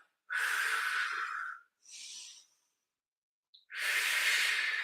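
Strong, breathy exhales and inhales during a pilates abs and booty workout, two long forceful breaths bracketing a softer one, close to the mic with silent pauses between.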